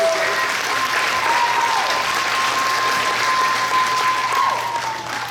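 Sustained applause from the audience at a school district board meeting, even and continuous clapping heard at moderate distance for several seconds, with a faint steady hum underneath.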